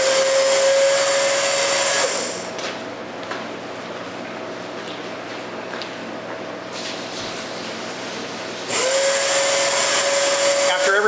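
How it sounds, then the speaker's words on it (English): An AF 4 foam proportioner runs in pulse mode, a loud motor whine with a steady tone that kicks on, drops to a quieter hum for several seconds, then surges back up, with no speech. "I'm going to go ahead and hit the start button, and you'll see the pulse mode and how it works."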